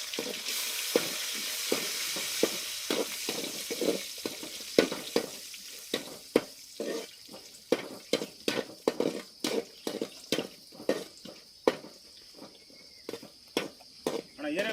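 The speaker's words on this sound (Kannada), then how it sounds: "ಗೋಡಂಬಿನ ಸ್ವಲ್ಪ ಲೈಟ್ ಕಲರ್ ಬರೋವರೆಗೂ ಹಾಂ ಫ್ರೈ ಮಾಡ್ಕೊಳ್ಳೋಣ" Cashew nuts fry in ghee in a pan over a constant close sizzle, broken by a steady run of sharp clicks and scrapes from stirring.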